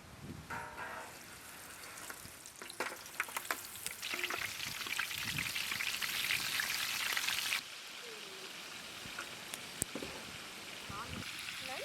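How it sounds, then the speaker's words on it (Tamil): Masala-coated sea crab fries in oil on a dosa griddle, giving a steady, close sizzle and crackle that runs throughout, with scattered sharper pops and a clink or two of a utensil. "மசாலா தடவின கடல் நண்டை எண்ணெயில பொரிச்சுக்கலாம்"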